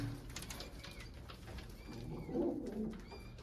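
Fancy-breed pigeons in a loft give soft, low cooing calls, fairly faint and steady, with one slightly louder burst of cooing partway through and no talking.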